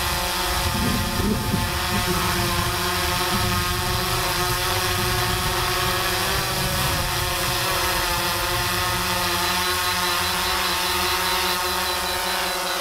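An Autel EVO drone lifts off and flies close by, its motors and propellers giving a steady, loud, continuous whine and hum throughout, with a brief rougher burst near the start.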